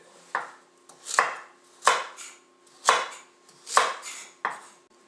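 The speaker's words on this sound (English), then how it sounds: "So don't worry if your cuts don't look perfect because they don't need to be" A knife roughly chopping carrots on a cutting board for carrot and ginger soup: six firm, evenly spaced thuds, close and clear, with no talk.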